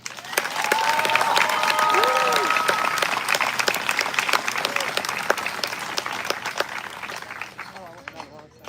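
A high school graduation crowd applauds warmly in a large hall or stadium, sustained clapping with scattered cheers and a few whistles that gradually taper off.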